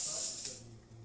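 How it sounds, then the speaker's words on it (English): The steam wand of an Olympia Cremina espresso machine hisses in a steady, bright burst that gradually softens over about a second, close by and with no talk. "So let's start with the steam."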